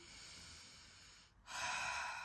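A quiet pause, then a sharp, forceful breath drawn in through the nose, rushing and airy, held briefly.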